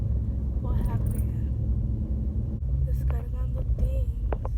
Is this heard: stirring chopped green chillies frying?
no